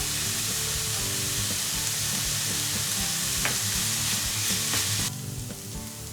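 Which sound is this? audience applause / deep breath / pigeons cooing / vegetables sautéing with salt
vegetables sautéing with salt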